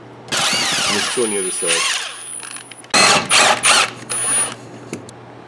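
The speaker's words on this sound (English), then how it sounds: "now we're gonna take the drive shaft out with a 7/16 bolt" Power tool whirring in short bursts while taking out the 7/16 drive shaft bolts on a third-generation Camaro, with a person speaking briefly between the runs.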